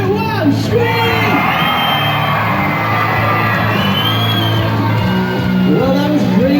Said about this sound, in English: if you want to win, you need to be even louder than everyone on that side. Ready? 3, 2, 1, scream!